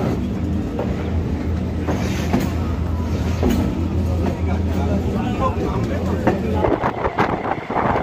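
A local train on the Kolkata to Kakdwip route rumbles steadily with a low, continuous hum and scattered clanks, while people chatter in the background throughout.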